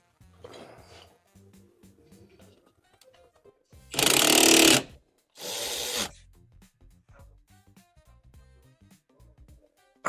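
Bolts on the suspension bushings of an Audi S3 8L being tightened with a power tool: two loud, harsh bursts, each lasting under a second, separated by a short pause, over a quiet workshop background.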